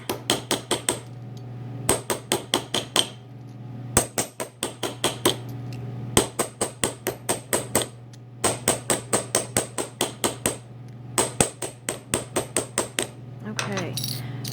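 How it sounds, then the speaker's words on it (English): A metal bottle cap for earrings is hammered flat with rapid bursts of sharp, loud metallic taps, clustered in quick runs separated by short pauses, over a constant low hum. "I'm going to try and flatten that out just a little bit more."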